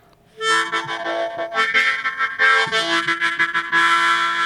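A double harmonica's paired-octave side is blown, with two reeds in different octaves sounding together for a full, organ-like chordal tone that swells in steady, close pulses with no talk.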